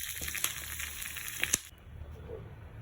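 Ghee and oil tempering ginger, mustard seeds, pepper, cumin and cashews for pongal, a soft steady sizzle with a few sharp pops and crackles before it cuts off to near quiet.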